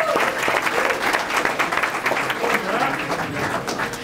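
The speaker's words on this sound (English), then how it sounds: "So for that, we applaud you." An audience applauds a high school golfer signing a letter of intent, a steady wash of many hands clapping at moderate loudness throughout, with faint voices mixed in.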